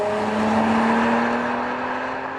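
An Acura TL engine revs hard, switching to its high-lift cam profile at about 4700 RPM, with a loud, steady, rising mechanical drone heard close and alone.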